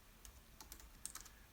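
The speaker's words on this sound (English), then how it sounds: "I'm typing Cleveland Cav." Typing on a computer keyboard, a brief run of soft, close key clicks in an irregular rhythm, very quiet and alone.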